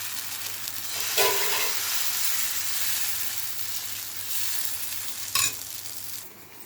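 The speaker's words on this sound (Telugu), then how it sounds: "దోశ పెన్నం వేడి చేసుకొని దోశ వేసుకోవాలి" Dosa batter made from two kinds of rava and flour hisses steadily on a hot pan, a close, continuous sizzle with a couple of louder sputtering swells as the batter spreads.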